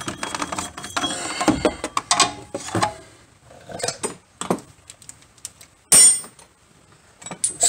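Tools working on the shock absorber of a C4 Corvette, a run of irregular metallic clicks, clinks and ratcheting taps up close, with quiet gaps between them and one louder clatter partway through.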